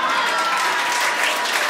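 An audience at a Judy Gold stand-up comedy show claps in dense, steady applause that fills the room, with a murmur of crowd noise mixed in throughout.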